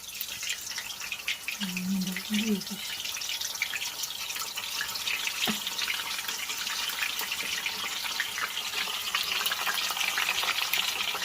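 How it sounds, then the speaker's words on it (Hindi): Fish pieces, some plain and some coated in flour and spices, frying in hot oil at home, giving a steady close crackling sizzle throughout with a faint brief hum early on. "अब हम इसको फ्राई करने लगे हैं।"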